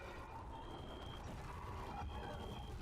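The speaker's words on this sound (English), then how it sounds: "I hear beeping." Electronic beeping inside the Subnautica 2 video game, a thin steady tone repeating in two long stretches over a dense low rumble of ambient game noise, with no voices.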